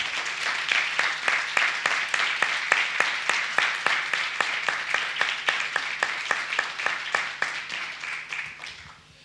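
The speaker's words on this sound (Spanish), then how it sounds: "Así que un aplauso para todos." Audience applause in a hall, dense clapping with rhythmic synchronized claps throughout, fading near the end, little talk.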